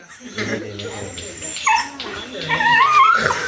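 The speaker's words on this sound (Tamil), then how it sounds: "கேக்கு தீத்துறா நாய்க்குட்டி" A puppy whimpers and yips in high squeals at a late-night birthday celebration, close by and mixed with people talking.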